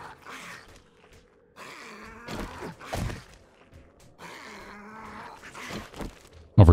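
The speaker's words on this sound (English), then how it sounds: "I hear dogs." A dog growls and snarls in the survival video game 7 Days to Die, producing low, rough vocal bursts at close range, repeated over several seconds and ending in a sudden loud hit.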